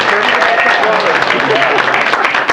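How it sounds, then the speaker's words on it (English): Audience at a 2004 Transformers fan convention panel gives a round of applause for a voice director, the clapping mixed with voices talking over it. "give him a round of applause, please"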